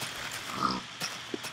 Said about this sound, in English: Oh, and look, they've added in pigs.